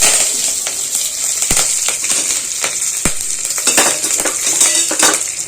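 Curry leaves hit hot tempering oil already holding mustard seeds, cumin and urad dal, giving a close, continuous sizzle with scattered sharp crackles and a couple of louder pops, no voices.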